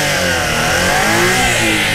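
A turbocharged mini van engine rated at about 49 horsepower revs loudly and steadily for two seconds, a continuous close engine roar with no talking.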